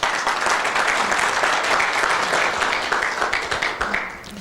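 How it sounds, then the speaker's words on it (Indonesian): An audience applauds for Pak Roy at a sponsorship seminar, a dense, steady burst of many hands clapping that carries on throughout and thins slightly toward the end. "kita berikan aplaus buat Pak Roy"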